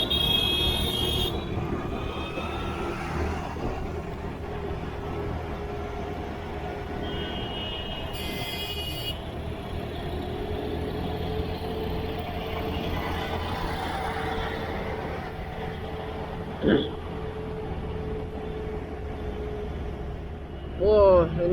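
Heavy traffic jam on an Indian bypass road at night, crowded with freight transport vehicles: a steady, dense rumble of engines and trucks with a brief horn-like tone near the end, heard from a motorcycle amid the congestion.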